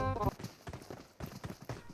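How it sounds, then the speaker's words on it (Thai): Footsteps inside a house in PUBG Mobile, a series of quick, soft thuds in an uneven running rhythm, fairly close, following a brief loud burst at the start. "มีเสียงเท้าในบ้านด้วย"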